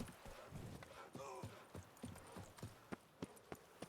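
Faint, rhythmic clip-clop of Roach the horse's hooves in The Witcher 3, a quick steady trot of sharp taps rising in level toward the end.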